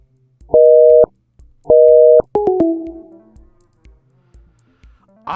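A telephone busy signal sounds while a caller tries to reach C-SPAN during a live debate stream: two loud, steady tone bursts, then a shorter wavering tone that fades, with no one talking.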